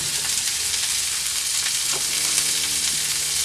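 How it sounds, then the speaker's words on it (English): Burger buns toast on a hot flat-top griddle, giving a loud, steady sizzle close to the mic with faint scrapes underneath; no one speaks. "we're going to grill off some buns here"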